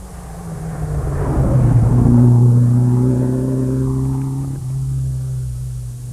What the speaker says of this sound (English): Bruce Blake there in his Talbot Sunbeam from Navan, zooming around the bend